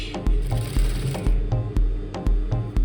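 A sewing machine stitches a linen slip dress with a rapid, regular mechanical clatter, its needle strokes pulsing in a steady rhythm, loud and close with no talking.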